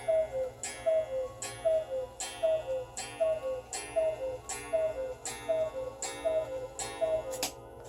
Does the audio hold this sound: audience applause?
no